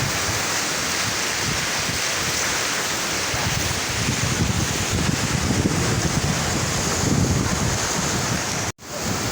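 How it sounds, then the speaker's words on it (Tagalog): Steady roaring wind with a dense rushing wash like heavy rain, constant and loud throughout, with no talking. "Lakas ng ulan, lakas ng hangin."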